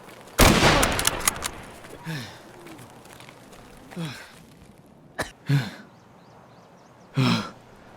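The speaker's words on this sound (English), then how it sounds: "That's why I'm panting" Escape From Tarkov character panting after being shot, with a loud burst of gunfire first and then several spaced, heavy breaths that rise and fall over quiet background.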